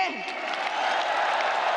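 A crowd at an Indonesian PDI Perjuangan commemoration event applauds, a dense, loud patter of clapping that begins just as a voice finishes speaking.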